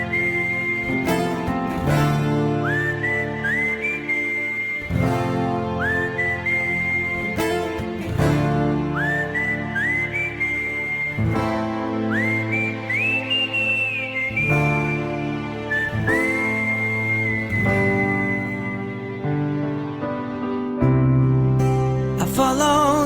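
Melodic whistling carries the tune of a rock ballad, long sustained and sliding notes over guitar and band accompaniment, loud and clear with no talking.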